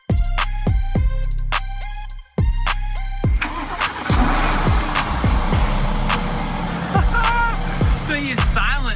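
The engine of a wrecked Mercedes bought from a salvage auction turns over with a repeated rhythmic cranking whir, cuts out briefly, then cranks again at close range, heard loud with some talking in the background.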